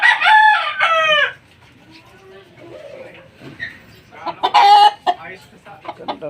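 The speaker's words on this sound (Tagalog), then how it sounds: "Ang gaganda ng mga manok." A rooster crows loudly up close, then hens cluck softly, followed by another loud crow among farm chickens, with people talking faintly in the background.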